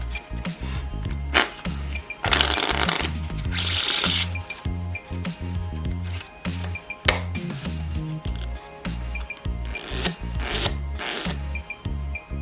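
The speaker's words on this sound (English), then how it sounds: "First, I'll take the cards and shuffle them as I know how." A deck of playing cards is shuffled by hand, with bursts of riffling and rapid flicking interspersed with softer rubs and taps, close and clear, no talking.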